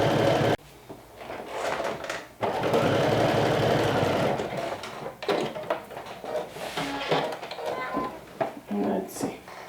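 A sewing machine stitches a decorative couching stitch on scrap fabric in runs of steady mechanical whirring, starting and stopping, with someone talking over and between the runs.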